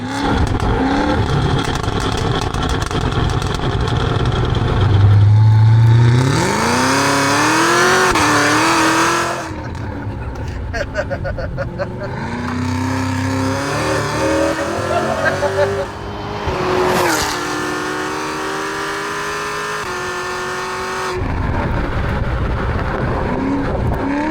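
A 1000 HP Cadillac CT5-V Blackwing engine revs hard repeatedly, pitch climbing and dropping through several bursts, loud and close throughout.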